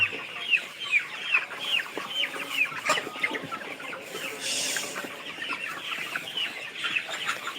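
Tiger chickens clucking on a poultry farm, a dense, continuous chorus of many birds with rapid overlapping clucks and an occasional louder squawk, no speech.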